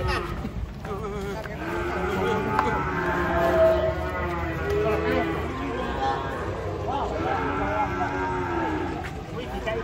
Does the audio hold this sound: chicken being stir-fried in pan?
no